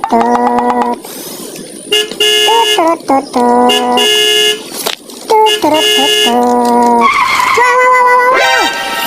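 A race car drives in an animated children's cartoon, with loud, tonal, horn-like bursts and skidding squeals that start and stop repeatedly over several seconds.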